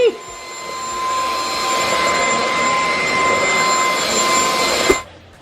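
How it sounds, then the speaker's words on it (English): A Shark vacuum cleaner runs loud and close while sucking up cut hair, a constant whining roar with steady tonal hums that suddenly cuts off near the end. "Just use a bloody Hoover."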